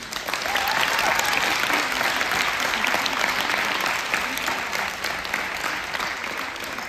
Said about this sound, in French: Vous avez raison d'applaudir nos deux championnes.